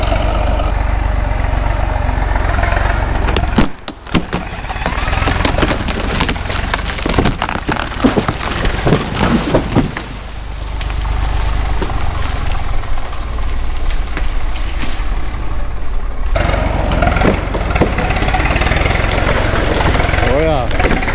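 A Caterpillar RD-6 crawler tractor's engine runs loud and close, rumbling and knocking under load while pulling a cable on a rotten oak tree, with a brief dip and an uneven throbbing surge; people talk intermittently over it.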